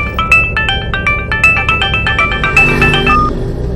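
A phone ringtone in a Tamil drama film plays as a rapid electronic melody of repeated bright tones, steady and fairly loud for several seconds with no talking over it.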